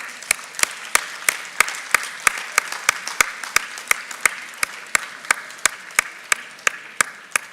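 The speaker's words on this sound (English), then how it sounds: "A big round of applause." An audience claps in steady, distinct, evenly spaced beats at an International Women's Day event held at IIT Kharagpur. The applause is loud and close and keeps up for several seconds.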